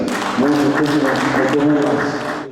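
Applause from a gathering honoring Mukabatsinda Esther, with a broad wash of clapping running throughout while a voice speaks over it.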